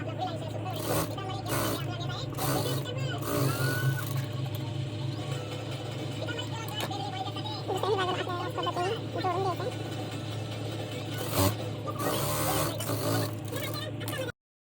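A sewing machine stitches a blouse, its steady mechanical whir and rapid needle clatter running throughout, with someone talking over it.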